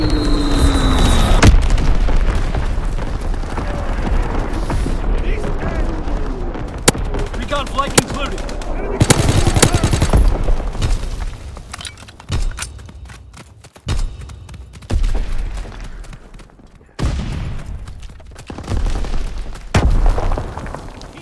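Gunfire and explosions from a World War 2 battle: sharp single shots and automatic bursts mixed with heavy booms, loud and intermittent, with voices calling out between them.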